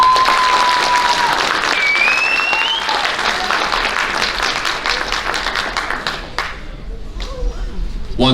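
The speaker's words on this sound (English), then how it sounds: "let's give these young men a round of applause" A crowd at a high school athletic banquet applauds with dense, loud clapping that carries on for several seconds before thinning and fading out.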